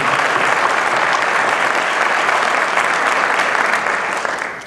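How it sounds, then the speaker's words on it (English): An audience at a high school Hall of Fame induction ceremony gives a loud, sustained round of applause for the evening's MC, the clapping fading slightly at the end. "If we could all give her a big round of applause"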